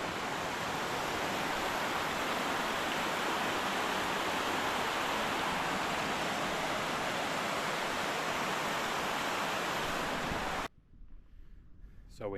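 Steady rushing water flows close by on the climb up Scafell Pike near Hollow Stones, a loud broadband roar filling the scene before cutting abruptly to near silence at the end.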